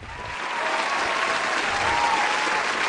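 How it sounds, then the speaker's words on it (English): A studio audience breaks into applause on a finance talk show, swelling quickly and holding steady and dense for a few seconds with no voices over it. "a little round of applause there for you"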